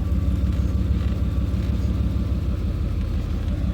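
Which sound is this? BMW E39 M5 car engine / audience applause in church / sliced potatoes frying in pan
BMW E39 M5 car engine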